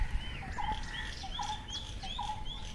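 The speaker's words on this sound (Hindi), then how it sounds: "और चिड़ियों की चहचहाती आवाज़" Birds chirp in a hostel garden at NIT Jalandhar in Punjab, a series of short, repeated tweets at moderate distance over a soft, steady outdoor background.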